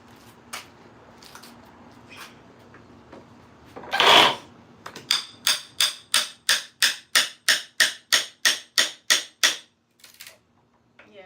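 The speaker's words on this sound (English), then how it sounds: "now that I'm in here with the crowbar and stuff, it's breaking up" Wooden pallet boards are pried apart with a crowbar: a few scattered knocks, one loud creaking crack, then a fast, steady run of about fifteen sharp, evenly spaced cracks and snaps, close and loud, with no talking.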